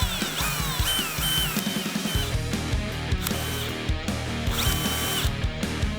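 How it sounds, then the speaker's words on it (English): A power drill whines loudly up close, boring a pilot hole with a 1/8 inch bit, its pitch shifting as the bit bites and speeds up. "Now I'm going to drill a pilot hole with a 1/8 drill bit where the lines intersect."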